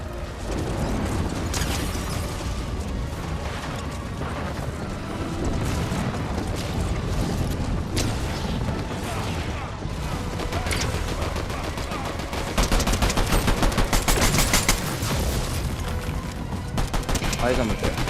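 An online shooter game fills the mix with rapid gunfire, bursts and booms, dense and continuous with a louder spell of rattling shots later, while players talk over it.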